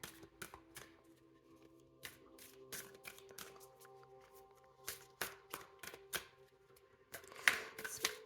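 Tarot cards shuffled by hand in a quiet room, a series of quick crisp riffling bursts and soft taps, close and fairly faint, with no talking.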